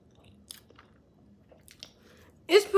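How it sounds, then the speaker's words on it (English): Famous Dave's chicken tenders being chewed close to the mic, with a few soft crunchy bites and wet mouth clicks, followed by a louder burst of voice at the end. "I'm still chewing after the first bite."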